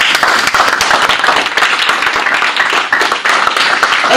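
A church congregation claps steadily and loudly for the Lord, a full, continuous wash of applause from a large crowd with no pauses.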